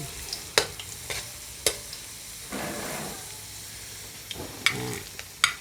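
Carrots sizzle in a frying pan while a utensil scrapes and stirs them, giving intermittent clacks over a steady hiss at close range.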